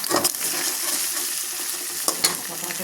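Boned fish pieces sizzle and fry in a pan while being stirred, giving a steady hiss close by with a couple of scraping stirs. No one speaks over it.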